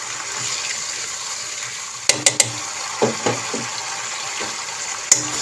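Charsi karahi fries with salt, sizzling steadily in a hot pan, a constant crackling hiss with a few sharp clinks and scrapes of a utensil against metal.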